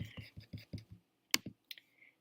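A computer mouse clicked on a link: a couple of sharp, isolated clicks, crisp and near, following a stretch of soft, murmured voice.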